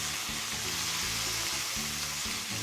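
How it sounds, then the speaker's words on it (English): Cremini and shiitake mushrooms sautéing in a hot skillet give a steady, close frying sizzle throughout, with a low rumble of stirring underneath and no talking. "We saute the mushrooms."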